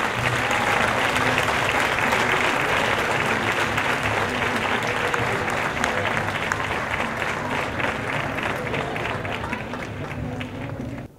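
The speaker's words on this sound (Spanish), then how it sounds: "Y un fuerte aplauso para todos los galardonados." Loud, steady applause fills an awards gala in Bolaños de Calatrava as honorees from local clubs are recognized, a dense, continuous clapping that carries on without pause and thins slightly toward the end.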